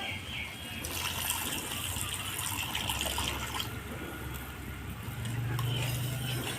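Water pours steadily into a cooking pan of spiced pomfret fish curry, a continuous close gushing that runs without break under faint background noise.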